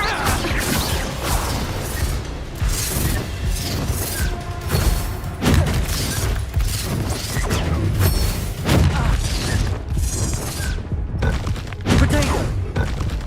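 Explosive Confringo spell blasts from Hogwarts Legacy, a run of loud booming thuds and crashes with shattering debris, repeated every second or two over dense game effects and a music bed.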